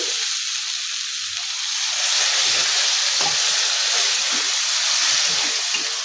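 Mutton frying in a pan sizzles loudly and steadily as water is poured in, a close, continuous hiss and crackle with no talking.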